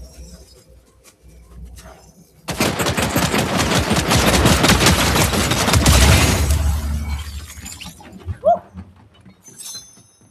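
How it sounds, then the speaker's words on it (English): Rapid automatic gunfire in a Fortnite match rattles for about five seconds in a dense, loud burst, then drops away into quieter game sounds. "Who's shooting at me?"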